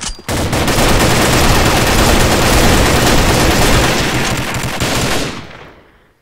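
A long, loud burst of automatic gunfire in a video game rattles continuously for about five seconds, then cuts off and fades into a brief tail.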